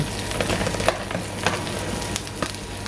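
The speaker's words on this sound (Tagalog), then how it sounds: "Igisa natin yung ating carne." Meat sautéing in a pan, a steady sizzle running throughout with a few louder scrapes and stirs breaking through at intervals, close and fairly loud with no talking.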